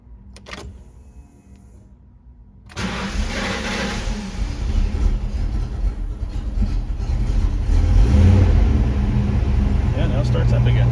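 An SN95 Ford Mustang GT with its MAF sensor disconnected cranks and fires up after a quiet moment, then idles with a steady, gradually building engine rumble close by.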